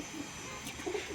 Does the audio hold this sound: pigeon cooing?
yes